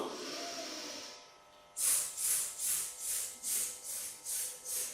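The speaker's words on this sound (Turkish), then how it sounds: "Yine burnumuzdan nefes alıyoruz." Rhythmic breaths drawn in through the nose during a breathing exercise come close and clear as a series of about seven short, evenly spaced sniffing inhalations after a quieter stretch.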